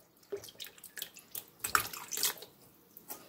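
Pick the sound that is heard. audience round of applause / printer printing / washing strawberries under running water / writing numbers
washing strawberries under running water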